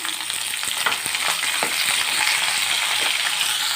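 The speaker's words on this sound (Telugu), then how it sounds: "సో ఎండుమిరకాయలు అయితే ఫ్రై అయినాయి కదా ఇందులోనే ఆనియన్ వేసేసుకున్నాం" Sliced onions frying in oil with dried red chillies for a spicy onion chutney, a loud continuous sizzle close by, punctuated by soft scraping stirs and taps of a spoon, no voices.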